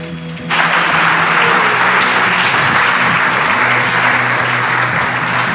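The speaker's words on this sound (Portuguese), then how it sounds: "Vamos agora receber o nosso profeta, o nosso pastor, com palmas bem alegres para o Senhor." A church congregation bursts into loud, sustained applause after a brief quieter moment, with dense clapping filling the room steadily to the end, backed by a faint organ-like hum.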